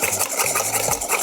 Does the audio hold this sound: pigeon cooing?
no